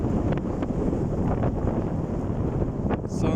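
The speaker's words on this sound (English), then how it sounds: "There's a lot of wind." Strong desert wind blows fine dust across open ground, a steady, dense roar buffeting the microphone throughout with no letup, gusting slightly near the end.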